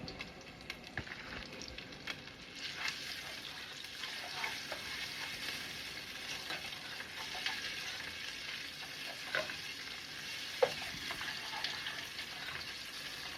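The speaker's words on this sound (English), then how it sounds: "I'm going to take the meat now and put it in the oil to start cooking it." Seasoned chuck roast beef for a Haitian-style stew sizzles in hot oil in a pot, a dense, continuous frying hiss with scattered pops and crackles that holds steady and close, with no talk.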